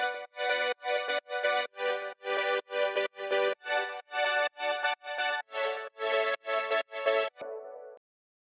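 Bright, wide synth chords pulse in a steady chopped rhythm, about fifteen gated stabs with heavy reverb and distortion, ending in a fading tail.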